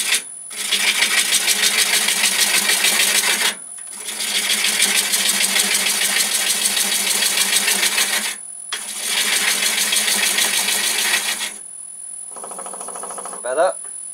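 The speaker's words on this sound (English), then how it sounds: "you put your chisel on top of the block of wood" A chisel cuts into a block of wood spinning on a lathe, giving three long, loud rasping runs split by brief pauses, then a quieter stretch with a short scrape near the end.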